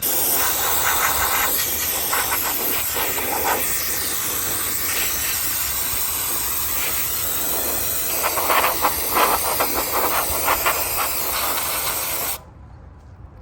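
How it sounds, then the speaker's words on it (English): Brake cleaner sprays in a steady, loud hiss onto oil-covered parts under a 2015-or-later Subaru WRX during an oil change. The hiss runs nearly unbroken with slight pulsing, then cuts off abruptly at the end. "Let's see if with brake clean I can take it off."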